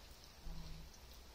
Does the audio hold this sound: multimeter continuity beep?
no